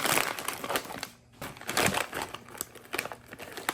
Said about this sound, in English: I want to stuff it down into the bag.